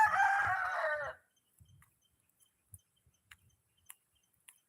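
A rooster crows loudly for about a second, followed by quiet with a few soft scattered clicks and taps.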